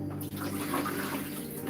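Broccoli is rinsed under running water in a kitchen during vegan stew prep, a steady, close splashing hiss of tap water, with a brief dip early on as the flow is disturbed, no voices.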